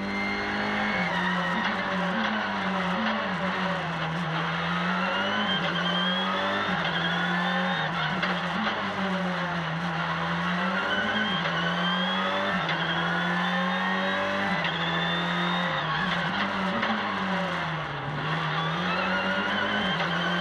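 A rally car at the 2022 Rallye le Touquet Pas-de-Calais drives and slides through a bend. Its engine drones loud and close throughout, the pitch rising and falling with each throttle change, over a steady wash of tire and gravel noise.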